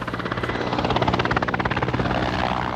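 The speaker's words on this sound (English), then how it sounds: "An attack helicopter going into battle from a secret airbase." An attack helicopter takes off from a secret airbase in Ukraine, heading into battle; the rotor chops with a loud, steady, rapid pulse and a heavy engine roar that stays close throughout, with no voices.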